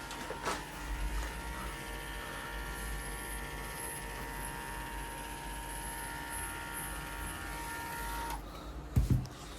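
An electric trimmer buzzes steadily and close while clipping the hair on a dog's underside, humming continuously for several seconds before cutting off, followed by a short bump.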